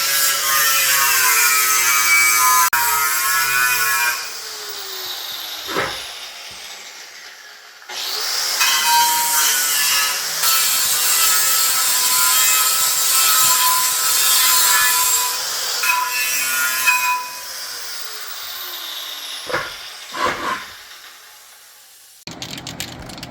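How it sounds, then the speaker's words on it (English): A grinder strips rust from a vehicle rim, with long loud abrasive whines whose pitch sags under load, broken by brief pauses and a few clanks as the tool lifts off the metal. "You can see how much dust Dad is kicking up from all that rust that he's grinding off"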